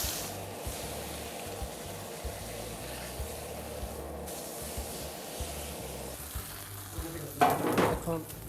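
A T-bone steak sears in hot oil with a steady, close sizzle that runs throughout, swelling into a louder, spitting burst near the end.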